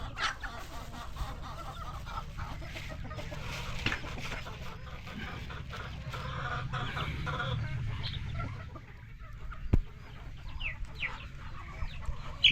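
Chickens on a backyard farm cluck steadily throughout, with an occasional crow and other birds scattered around them, moderately near and continuous.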